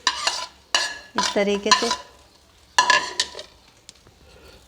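Chopped tomatoes tipped into smoked BBQ keema and stirred with a spoon against the pan, three bursts of clattering, scraping strokes up close, with someone talking briefly in between.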